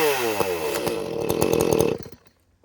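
Ported Echo CS-310 chainsaw revving hard up close, a loud buzzing two-stroke whine that rises and holds for about two seconds before cutting off sharply.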